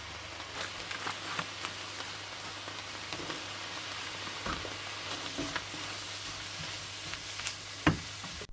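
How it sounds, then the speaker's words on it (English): Food dry-fried in a pan with no oil during a budget one-euro meal in Madrid: a faint, steady crackling sizzle with scattered clicks and scraping stirs, close up and with no voices. "we're gonna have to dry fry this"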